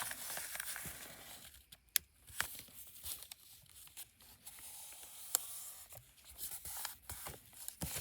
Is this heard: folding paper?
yes